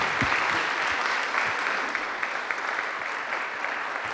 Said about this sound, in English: Big round of applause, thank you.